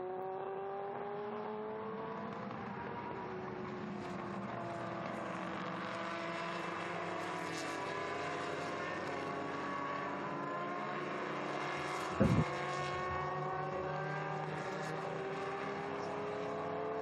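Historic racing cars, including John Emberson's orange Chevron, run past at the Estoril Classics, a steady engine drone with rising and falling pitch sweeping through as they pass, plus a brief sharp burst near the end.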